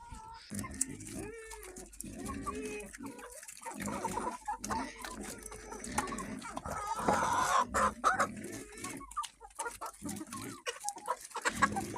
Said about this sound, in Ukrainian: Звуки села. Свині пищать, курі куткудачать.